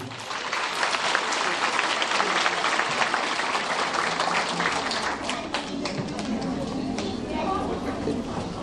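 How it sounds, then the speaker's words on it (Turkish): An audience at a year-end fair and gift ceremony of a public education center in Kartepe applauds the teachers. Sustained, fairly loud clapping fills the room, then thins and softens in the later seconds. "Hocalarımızı lütfen bir alkışlayın diyorum"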